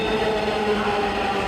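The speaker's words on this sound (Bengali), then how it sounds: "আরেকটা ট্রেন চলে আসলো" A metro train pulls into a station, giving a steady close rumble with a sustained mechanical hum and whine and no talking.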